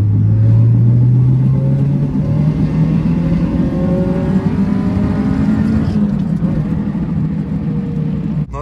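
A Honda Civic engine revs hard through second gear, a loud, steady droning roar with rising tone sweeps, close by and alone with no talk.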